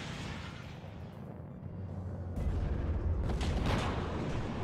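Conqueror tanks firing in WARNO, with deep booming cannon reports and a heavy rumbling battlefield bed that swells louder partway through, the shots distant and blended into the noise.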